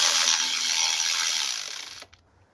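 Ratchet clicking rapidly as it tightens valve cover bolts on a 2007-2011 Toyota Camry, a dense steady burst lasting about two seconds, close and loud, then stopping abruptly.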